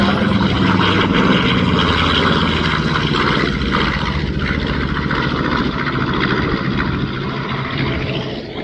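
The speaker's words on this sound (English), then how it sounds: "flying the museum's B-25" A B-25 bomber roars past at an airshow, its twin propeller engines a loud, sustained, throbbing drone that stays close and steady before easing slightly toward the end.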